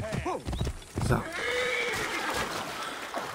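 A horse whinnies sharply in Assassin's Creed Origins, then hooves clatter along steadily, with a man's brief spoken word near the start.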